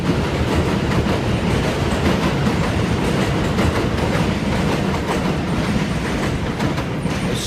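A subway train rumbles past loudly and steadily, with a rhythmic clatter of wheels on track throughout and no voices.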